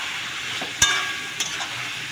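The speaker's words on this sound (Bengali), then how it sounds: "দেখতে পাচ্ছি চিকেনটা একটু লাল লাল করে ভেজে নেবো" Chicken pieces fry with spices in a pan, giving a steady close sizzle with two short scrapes or stirring knocks and no voices.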